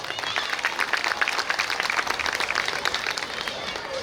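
Steady audience applause fills a school annual-day function under a marquee, with many hands clapping in a dense, even patter at moderate distance, over a few seconds.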